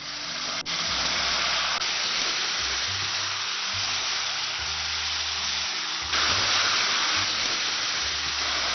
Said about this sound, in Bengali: আমি এখানে এখন চিলি সস দিয়ে দিব।